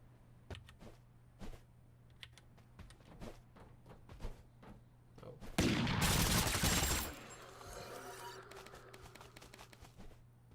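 Gunfire rips out of a shooter video game in a short, dense burst of rapid shots, preceded by scattered sharp clicks and light movement noises, then fading into a lingering tail.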